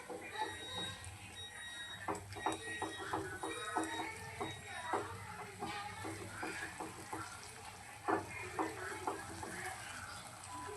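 Ginger-garlic paste with two green chilies frying in a pan, giving a steady low sizzle broken by frequent scraping stir strokes, faint and close.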